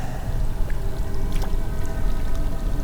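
Water flowing in a film scene, a dense, continuous rushing wash with low rumble that stays fairly loud throughout, with faint scattered trickles and splashes on top.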